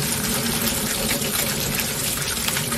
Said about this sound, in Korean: 양이 적은 국수 씻으실 때는 그냥 이렇게 흐르는 물에 씻으시면 돼요